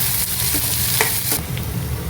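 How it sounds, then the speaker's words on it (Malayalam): Chopped onion for brinjal curry sautés in a pan with a steady, close hiss of frying, broken by a few light stirring clinks and scrapes, and no voices. "അനിയന് ചോപ്പ് ചെയ്തത് ചേർക്കുക. അത് നന്നായിട്ട് സോട്ട് ചെയ്യുക."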